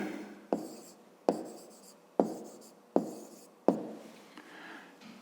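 Pen or pencil strokes on paper while triangle side lengths are written down, five sharp taps each trailing into a soft scratch, evenly spaced, close and quiet with no talking.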